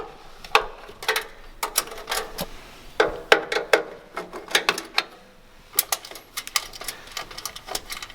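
A driver works mounting nuts off the motor of an Artisan coffee roaster, producing a series of sharp metallic ratcheting clicks and clatters in quick irregular bursts, close and fairly crisp.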